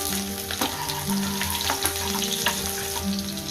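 Onion, garlic, ginger and chili frying in a pan for paneer butter masala after cardamom and cloves, a steady close sizzle with soft scraping stirs and a faint watery hiss throughout, no voices.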